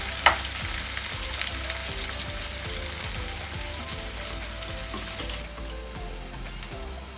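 Sliced onions frying in hot oil for an egg tadka, a steady dense sizzle with small crackles and pops that holds evenly close up for several seconds, with no talking.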